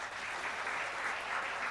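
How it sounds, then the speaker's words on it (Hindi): Brief, steady audience applause in a hall at the Bhopal Literature and Art Festival, a soft, even patter of many hands heard from some distance with no talking. "इनके लिए ताली बजा दीजिए भाई"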